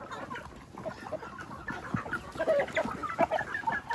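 Heritage and native chickens cluck and call together in a breeding pen, a continuous close flock chatter with overlapping hen clucks and brief squawks, no talking.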